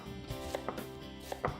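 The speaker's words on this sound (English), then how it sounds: "And then I'm going to cut up an onion." An onion is roughly chopped with a knife on a cutting board: a handful of sharp, irregular knife strikes, close and crisp, with no one talking.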